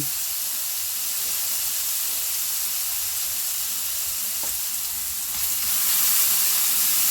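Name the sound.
minced garlic and onion frying in a pan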